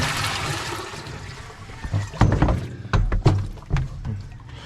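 Rainwater gurgles and sloshes out of a nearly empty drum on a farm, with irregular thunks and splashy bursts of water following a softer trickle at the start.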